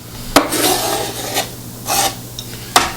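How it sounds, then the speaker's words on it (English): Mushrooms tumble into an oil-coated pan for vegan chili, landing with a few sharp clattering thuds followed by brief scraping and rustling against the pan, close and fairly loud. "So now we're adding our mushrooms,"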